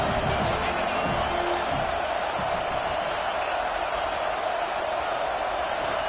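A large stadium crowd at a Wisconsin college football game roars continuously and loudly, a dense sustained wall of cheering that never lets up.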